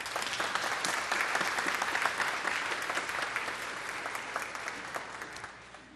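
A church congregation at a United Church Sunday service gives a sustained round of applause, dense and even, heard from across the sanctuary and fading gently at the end.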